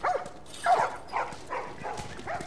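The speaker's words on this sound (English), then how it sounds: "Oh, look at the doggies." Dogs in a The Last of Us game scene give short muffled barks and whimpers, several soft bursts in quick succession over a low background rumble.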